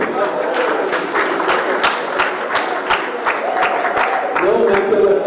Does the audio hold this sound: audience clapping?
yes